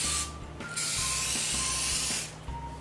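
Bursts of hissing aerosol spray come in several presses, separated by brief pauses, with a steady low hum underneath.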